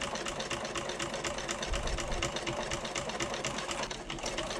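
A sewing machine runs steadily, stitching a quarter-inch seam across the bottom of a zip pocket on a convertible bag, its rapid needle chatter continuous and close with no talking.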